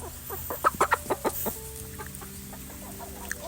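A small flock of backyard laying hens, molting and off lay in winter, give a quick run of five or six close, fairly loud clucks, then fall to quiet farmyard background with faint distant calls.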